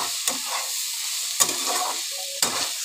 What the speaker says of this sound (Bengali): এই সবজির সাথে সোয়াবিনটাকে আমি ভেজে নেব ভালো করে